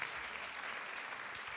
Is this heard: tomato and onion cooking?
no